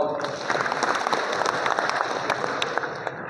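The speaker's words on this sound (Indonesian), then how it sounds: "Boleh tepuk tangan dong." An audience at a regional chamber of commerce meeting in Indonesia claps together, a dense, lively burst of applause with individual sharp claps standing out, lasting a few seconds.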